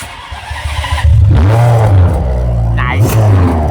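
Ferrari 599 GTO engine recorded right at the exhaust pipe, a loud close rumble that swells into a sharp rev about a second in, then holds a throaty idle with another brief blip; no talk.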